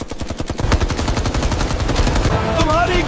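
Rapid automatic gunfire in a staged fight over a tanker and gas containers: loud, close bursts of machine-gun shots in a fast regular rhythm, continuing for several seconds.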